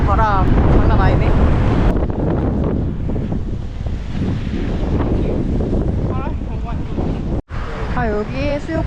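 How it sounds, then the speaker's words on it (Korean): Strong coastal wind at Lagos, Portugal, roars steadily into the microphone for the full stretch, with a brief dropout near the end and voices talking faintly underneath. "와 바람 장난 아니네."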